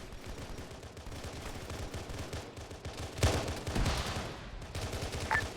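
Rapid automatic gunfire rattles continuously in the OPTRE Halo mod for Arma, with a heavier burst midway, fairly close and loud over battlefield noise.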